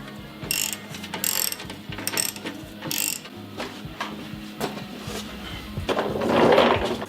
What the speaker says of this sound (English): you need an adjustable wrench to hold this in place